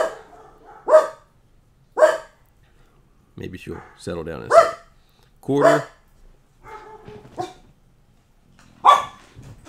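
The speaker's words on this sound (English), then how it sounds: "it's raining and thundering, so the dogs have to tell me that." Dogs barking repeatedly during a thunderstorm, loud close barks spaced about a second apart with a few whimpering yips, while a person talks in between.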